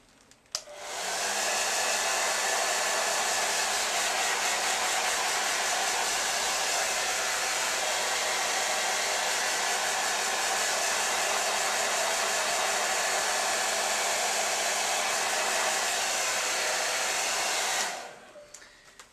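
A hair dryer blows on wet stamped ink on a mixed media art piece, a steady loud whooshing whir that switches on, runs evenly for about seventeen seconds, then cuts off.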